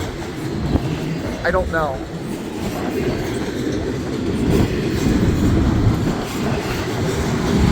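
A long CSX intermodal freight train rolls past on the Erie West Subdivision, a steady loud rumble with rail noise and a brief squeal early on, while a person speaks briefly over it.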